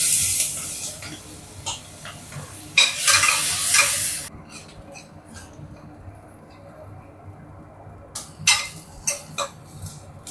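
Chopped onion and fennel powder hit hot oil in a pan for a Tamil kohlrabi curry, bursts of sizzling and stirring scrapes that drop to quieter crackles, then a few sharp spatters.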